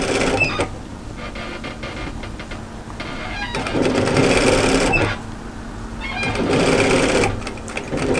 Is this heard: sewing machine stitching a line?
yes